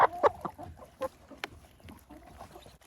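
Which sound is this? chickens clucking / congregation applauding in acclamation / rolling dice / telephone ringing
chickens clucking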